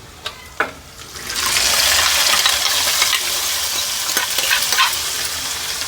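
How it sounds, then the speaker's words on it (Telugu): Tempering for tomato dal hits a hot pan, two sharp clinks followed by a loud sizzling burst that settles into steady frying with occasional crackles. "చూడండి, ఇప్పుడు పోపు వేసుకుందాం మనము."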